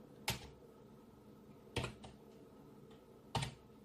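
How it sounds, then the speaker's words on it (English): Keys struck on a computer keyboard while entering a command, three isolated close clicks spaced about a second and a half apart over a quiet background. "you type in power config cfg.exe"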